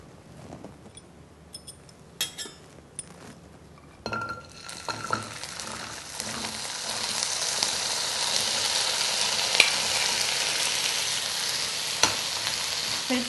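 Cut taro (arbi) pieces hit a hot pan greased with a spoonful of oil. A few clinks come first, then a loud frying sizzle starts suddenly and builds into a steady hiss, with occasional stirring and pan clatter and no talk.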